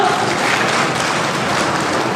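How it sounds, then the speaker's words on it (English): Broad, steady applause from a school audience at a debate competition, continuous and fairly loud with no pauses, filling the hall for a speaker introduced in favor of the motion. "Can we have a huge round of applause for her?"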